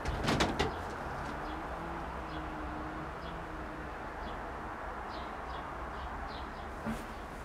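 A 2009 Jan Aarden racing pigeon cock coos in low, soft, repeated phrases under a steady background hiss, with a few faint higher chirps and a short knock near the start.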